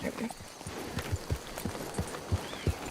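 A horse's hooves clip-clop steadily in a video game, a regular beat of muffled thuds with a voice talking over them.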